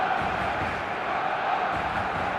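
Steady stadium crowd roar in an eFootball match, a broad constant wash of massed voices with no distinct cheers, sustained evenly for the whole moment.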